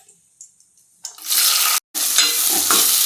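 Chopped onions drop into hot oil seasoned with bay leaf and stone flower for a village-style chicken gravy curry, erupting into a loud, steady sizzle after a quiet start, with one brief gap before the frying hiss resumes.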